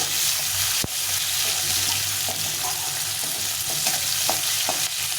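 Large diced onions frying in a pan for a Bengali fish curry, stirred around: a loud, dense, continuous sizzle with occasional scrape and tap of the spoon, close up and without talking.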